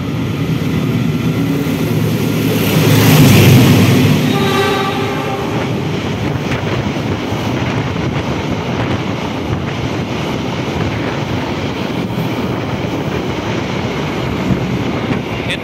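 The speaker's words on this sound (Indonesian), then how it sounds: "Itu dia kereta Argo Dwi Pangga yang diperbolehkan masuk jalur KRL" The Argo Dwi Pangga passenger train passes loudly on the KRL track at Kranji station, with a horn blast near the start, then a long continuous rush of wheels and rail clatter as the carriages roll by.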